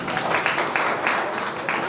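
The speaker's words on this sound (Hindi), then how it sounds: "एक बार जोरदार ताली बजाएं" An audience at a Hindi mushaira poetry gathering claps steadily, a dense sustained wash of applause with a few sharper rises, heard from within the crowd.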